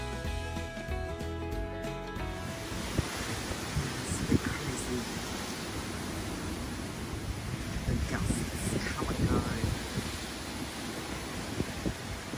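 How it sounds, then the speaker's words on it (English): Strong wind roars and buffets the microphone in steady gusts in Tasmania, Australia, on a motorcycle ride, with rustling and thumping underneath after a brief burst of music at the start. "This weather's a bit nuts, a bit windy and woolly."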